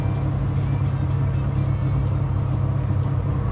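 A 1964 Chevrolet Biscayne with a 632 big-block Chevy V8 and Tremec five-speed rumbles steadily and loud, a deep continuous engine roar with a shaking low-end throb and no voices.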